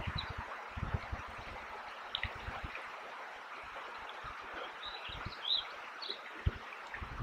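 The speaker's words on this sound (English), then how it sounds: "listening to the sound of the birds, the water rushing past" Birdsong and rushing water in a quiet outdoor setting, with soft chirps scattered over a steady broadband wash of flowing water and low rustling thumps throughout.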